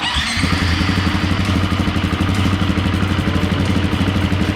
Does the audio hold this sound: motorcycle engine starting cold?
yes